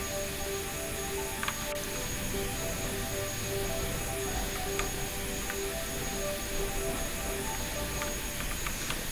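A Mirage jet landing in the BeamNG.drive game: a steady, loud engine roar and rushing noise hold throughout, with a faint high whine and a few light clicks on top.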